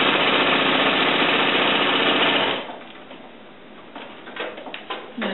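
Sewing machine stitching quilt binding, a loud steady mechanical whir for a couple of seconds that stops abruptly, followed by faint clicks and handling noises.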